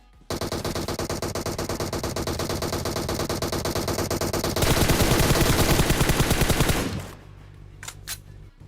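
In a PUBG Mobile match, automatic gunfire rattles in a long rapid burst of evenly spaced shots. It then shifts into a denser, louder stretch of fire before stopping abruptly, leaving faint clicks.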